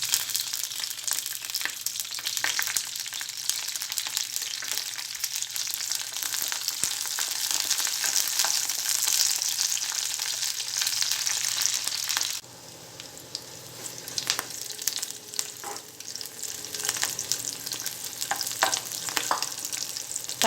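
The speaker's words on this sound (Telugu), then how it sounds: "ఆయిల్ వేడైన తర్వాత పచ్చిమిరపకాయలు వేసుకోవాలి." Green chillies frying in hot oil in a pan, a loud continuous sizzle with crackling pops, briefly dropping in intensity midway before bubbling back up with scattered spits and stirring.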